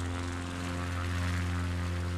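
Steady, close propeller drone of an XCub light aircraft engine in Microsoft Flight Simulator, a continuous tonal hum with no talk over it.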